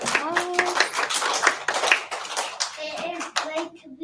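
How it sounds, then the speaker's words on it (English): A round of applause rises for a student at a school assembly, with distinct, fairly close claps mixed with children's voices chattering over them. "Let's give her a round of applause."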